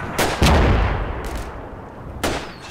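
Explosions from mortar and artillery fire land in the WWII strategy game Combat Mission: Battle for Normandy, with three loud broadband booms spread across a few seconds, each trailing a rumbling decay.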